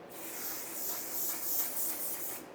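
Mattifying waterproof makeup setting spray mists out in a steady hiss lasting a couple of seconds, close and moderately loud.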